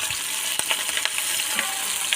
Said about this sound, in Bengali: এইগুলো নেড়ে নেড়ে হাফ ভাজা করে নেব